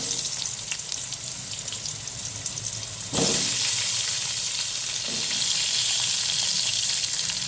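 Potatoes go one by one into hot oil seasoned with black cumin seeds for a fish curry, giving a steady hiss that jumps into a louder, fuller sizzle as a piece drops in.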